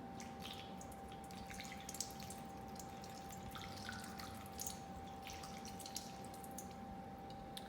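Water flows and drips through a model brain ventricle, a soft continuous trickle with scattered light drips and a faint steady hum behind it, no talking.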